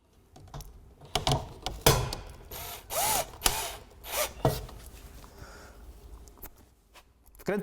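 Screws are driven through a vinyl siding panel into a wall, giving a series of short, close scraping, ratcheting and plastic-rubbing bursts with brief pauses between them.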